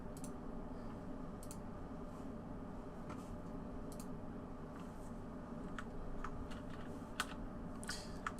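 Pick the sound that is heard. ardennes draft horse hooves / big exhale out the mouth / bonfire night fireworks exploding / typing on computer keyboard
typing on computer keyboard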